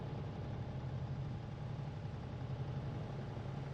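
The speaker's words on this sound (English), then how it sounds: "So if I were to use my other Scania, it would sound like that." A Scania truck engine idles in the TruckersMP trucking game, giving a steady, even low drone with a faint vibration that runs unbroken throughout, with no voices over it.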